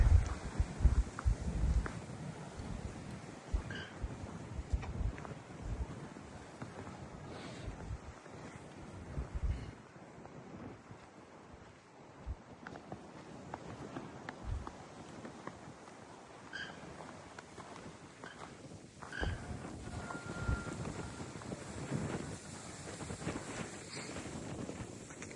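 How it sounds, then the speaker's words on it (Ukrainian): Strong wind buffets the microphone in heavy rumbling gusts throughout, roaring loudly at times and easing briefly before surging again. "Вітер страшний просто сьогодні."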